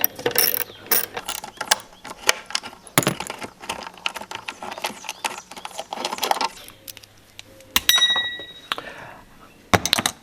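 A ratchet fitted with a 10mm socket loosens the brake light screws on a Subaru Outback, a quick clicking pawl repeated in bursts up close, with metallic clinks and brief pauses.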